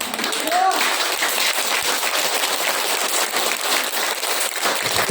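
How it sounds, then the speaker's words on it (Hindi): A church congregation clapping hands loudly and fast during a Bible message, a dense continuous crackle of many hands at close range with speech mixed in. "ताली जब बजाता ऐसा बजाओ कि शैतान आपका दो हाथ का बीच में चपटा हो जाना चाहिए"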